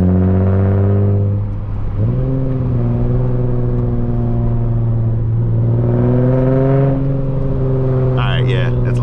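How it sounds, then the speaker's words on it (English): A loud car engine revs up and holds high, heard from inside another car with the window down at a Hoonigan-style meet. The tone steps up sharply, then stays at a strong, steady drone with brief shifts near the end. "Your car is drowning my car"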